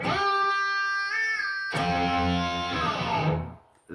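A distorted electric guitar note rings out, its pitch bending upward and back down, followed by a second sustained bent note that fades away.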